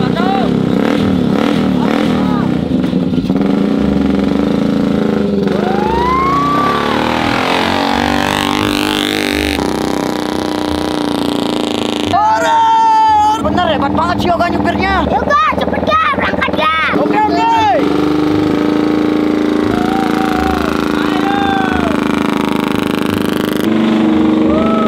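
A stalled motorcycle's engine revs hard while climbing a steep hill at night, loud and close with rising, fluctuating roars and rattling, while people talk over it.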